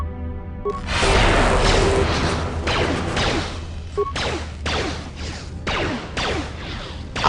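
Combat with two droids in the video game Star Wars KOTOR 2, a loud run of crashing blaster-like bursts and whooshing impacts repeating in quick succession, with a continuous low game hum underneath.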